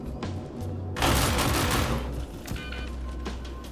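Pulverizer LMG fire in Star Citizen 4.3.2 headshot damage testing: a loud, sustained burst of rapid automatic gunfire erupts after a quiet second, then tapers into echoing tail and lower background hum.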